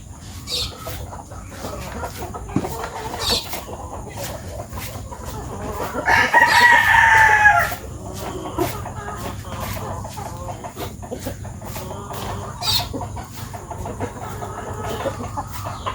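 Farm chickens clucking around a rooster that crows loudly once in the middle, with scattered bird calls and faint background noise throughout.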